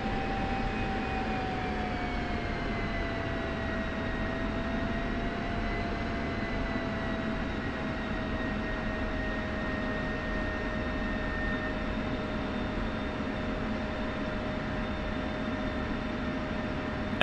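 Jet aircraft engines idling while taxiing in the DCS flight simulator, a steady, loud whining drone with slowly falling high-pitched tones over a constant roar, no talk.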